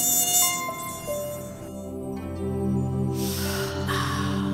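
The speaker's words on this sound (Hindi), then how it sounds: "इनके यहाँ बहुत मच्छर है ना।" Mosquitoes whine indoors in a home as a thin, steady high-pitched buzz, heard alone and close for several seconds with a low tonal hum beneath it.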